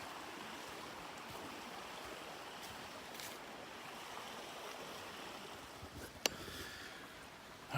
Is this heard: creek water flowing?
yes